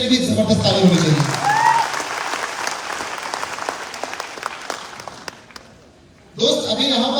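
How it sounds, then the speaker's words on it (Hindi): An audience bursts into loud applause, dense clapping that swells under a voice on a microphone, thins gradually, fades almost out, then a fresh round of voice and clapping rises sharply at the end. "मैं चाहूंगा ऐश्वर्य गुप्ता सर के लिए भी जबरदस्त ताली होनी चाहिए।"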